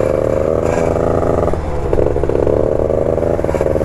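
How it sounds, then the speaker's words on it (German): Aprilia scooter accelerating hard in a drag race, its side stand scraping and clattering against the road under a loud, steady engine drone with a brief dip in the middle. "Hier hört man das jetzt ganz gut, wie schnell der Seitenständer aufsetzt bei dem Roller"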